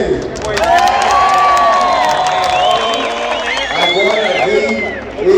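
A stadium crowd at a Formula Truck race in Curitiba cheers and applauds in a loud, continuous roar, with shrill whistles and shouting voices rising above it for several seconds.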